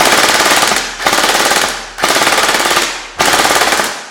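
A CYMA M4 Long gel blaster fires four loud, rapid full-auto bursts of about a second each, the rattling shots running back to back and close up with no talk.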